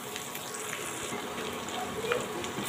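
Frying masala with added salt stirred in a pan, giving a steady, moderately loud sizzle with faint scraping throughout.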